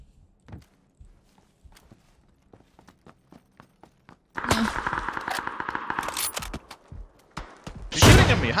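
Gunfire in a shooter video game: sparse, sharp single shots and footstep-like ticks at first, then a dense burst of rapid automatic fire, a brief lull, and a final loud burst, all without speech.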